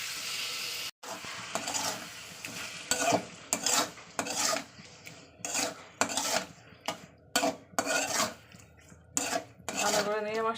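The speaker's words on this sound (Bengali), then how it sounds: "মাছটা দিয়ে ভালো করে আমি তেলের উপর একটু ফ্রাই করে নেবো" A spatula scrapes and stirs in a pan in a dozen short, uneven bursts while fish fries in oil with spices, with only a faint sizzle beneath the loud clattering strokes.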